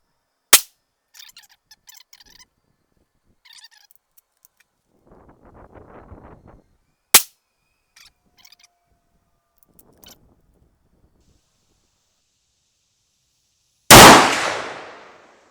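Rifle shots from a CVA Scout break-action in .444 Marlin firing Hornady 265-grain FTX loads at an outdoor range: loud, sharp reports spaced several seconds apart, with faint handling noise and shuffling between them.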